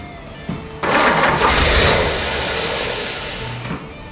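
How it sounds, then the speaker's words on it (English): An old Jeep CJ5 with a 304 V8 and a carburetor cranks briefly, then catches and roars to life, settling into a loud, rough, steady running close by, with no talking. "Let's see if this old carburetor and Jeep will start for the first time in probably 25 years"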